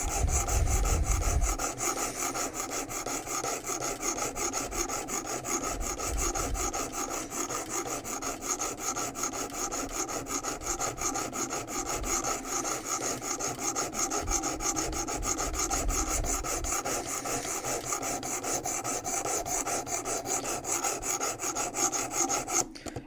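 A knife edge is ground on the first coarse abrasive grit of a WorkSharp Precision Adjust sharpener. The close, steady rasping continues unbroken for over twenty seconds.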